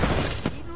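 A burst of rapid gunfire rattles in a first-person shooter video game, loud and dense for under a second, over game audio.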